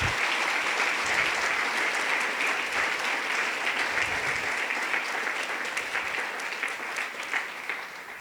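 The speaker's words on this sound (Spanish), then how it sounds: "le den un aplauso a nuestro Rey" Steady applause from a church congregation at a Sunday service, dense and continuous throughout, easing slightly toward the end with no speech over it.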